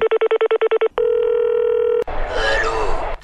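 A quick run of touch-tone beeps, then a steady dial tone for about a second, followed by a burst of noisy, garbled line sound.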